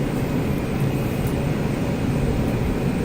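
Steady aircraft engine drone from Microsoft Flight Simulator 2020, a plane idling on the runway before takeoff; a continuous, loud, even rumble throughout with no talking.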